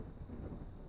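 Low, continuous rumble of thunder as a storm builds before rain, broad and steady throughout without any voices.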